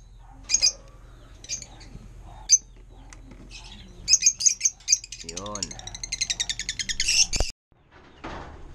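A pair of African lovebirds chirps at their nest box, sharp high calls coming in scattered bursts and then a rapid run of chirps up close, with a person speaking briefly in between.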